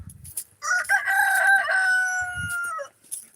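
A farm rooster crows a single long cock-a-doodle-doo, loud and close, rising and then drawn out before trailing off, with soft clucks and low farmyard stirrings just before and after.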